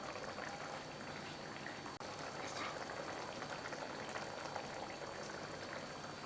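Water is poured into an egg gravy masala simmering in oil, a soft steady bubbling and trickle at low volume with no talk.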